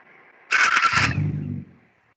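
A car's engine cranks and catches in a short burst of starter whir and ignition, then settles briefly into a low idle before fading out, close by and with no talking.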